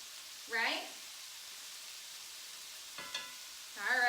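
Asparagus sizzles in garlic-infused canola oil as it is stirred, giving a steady, soft frying hiss throughout, with a few brief voice-like sounds breaking in over it.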